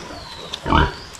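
Hungry piglets on a farm give a single short, close grunting oink against a faint background hum.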